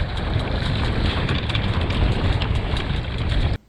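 Steady wind rushing over a microphone on a Hobie 16 catamaran under sail on cold water, a broad continuous roar with faint water wash, loud and unbroken until it cuts off abruptly at the end.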